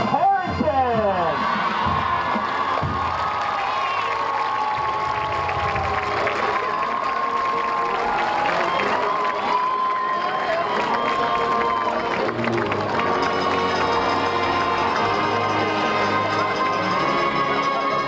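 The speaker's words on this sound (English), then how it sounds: "Let's have a nice round of applause for our 2021 Homecoming Queen" Crowd at a high school football homecoming applauding and cheering for the homecoming queen, a long, dense wash of clapping, whoops and shouting children, loud and sustained with an announcer speaking over it.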